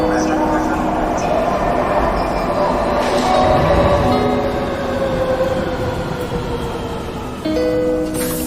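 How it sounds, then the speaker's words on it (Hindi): A metro train pulls into a station, its rising whine and rumble of wheels building steadily with a hiss near the end, heard under people talking. "पहले देखिए सामने से मेट्रो आ रही है।"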